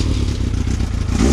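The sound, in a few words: Yamaha R6 motorcycle engine started and running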